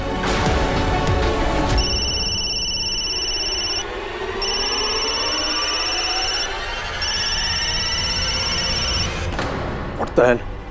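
A phone ringtone repeats in three long, steady electronic bursts with short gaps, loud and close over a busy background wash, with a brief voice near the end.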